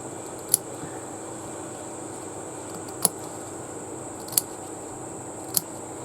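Scissors snip fabric inside a stitched circle while making a bamboo handle bag: four crisp, isolated clips spaced a second or more apart, close and quiet over faint background hiss.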